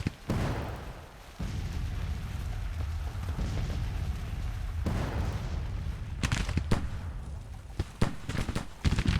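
Heavy gunfire and artillery booms in a Civil War battle video game, a sustained rumbling barrage with sharp cracks and loud blasts bursting out near the end.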